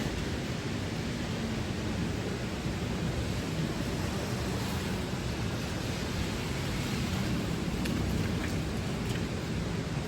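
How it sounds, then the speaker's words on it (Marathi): Petrol pours at a pump into the fuel tank of a Bajaj motorcycle, a dense, even rushing hiss that holds steady and loud for the whole stretch. "आपण या ठिकाणी फुल करत आहोत टँक."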